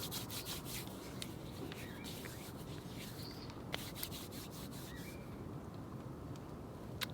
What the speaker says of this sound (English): begin to close your practice by rubbing your hands over your thighs. Maybe rubbing your palms together.